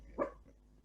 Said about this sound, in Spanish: Están los perros acá.